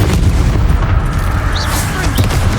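A wizard's Expelliarmus disarming spell fires in the video game Hogwarts Legacy, a loud booming burst over continuous battle noise and music, with no break in the dense din for its whole length.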